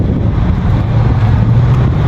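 Cold wind blows steadily across the microphone for about two seconds, a loud continuous low rumble and buffeting with no voices.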